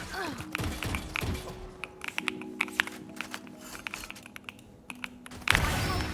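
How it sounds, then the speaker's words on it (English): Rapid typing on an Asus ROG Azoth mechanical keyboard, an upgraded version, during a Valorant-style shooter match, with irregular bursts of crisp close key clicks over faint game sounds and a louder rush of noise near the end. "I'm using a new keyboard from Asus. It's an upgraded version of the popular ROG Azoth"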